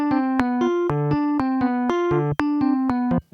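Quantized MIDI notes played back in a digital audio workstation: a synth-like melodic line of evenly spaced, crisp eighth-note attacks with steady rhythm, loud and alone with no talking.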